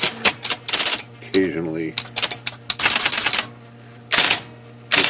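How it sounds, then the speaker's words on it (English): An IBM Selectric II electric typewriter with a slight misselection fault types in close, loud bursts of rapid mechanical strikes with short pauses between runs, and someone talks between and over them. "Got the IBM Selectric 2 here that is it's got a slight misselection problem when we type it."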